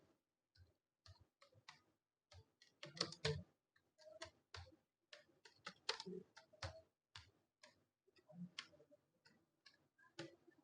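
Keys clack on a computer keyboard as an institute name is entered in MS Word for an ID card, irregular quick taps in short bursts, close and crisp in a quiet room.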